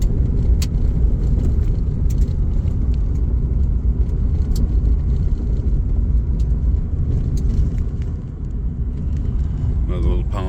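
A car rolls along a rural gravel road at roughly 25-30 mph past houses and ponds, giving a steady, loud rumble of tires and engine throughout, with a crunchier rattle building near the end.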